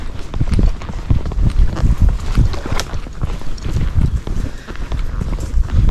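A gaited horse's hooves strike the ground in a quick, uneven rhythm while walking slowly downhill on a trail, loud and close with some wind noise.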